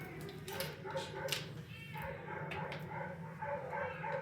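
A dog yips and whimpers in short bursts in an animal shelter's hospital room housing a couple of cats and one dog, the sounds moderately near over a steady room hum.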